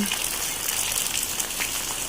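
First rain of May in the Philippines, a steady, dense hiss of rainfall pouring onto surfaces nearby, continuous and even throughout with no voices.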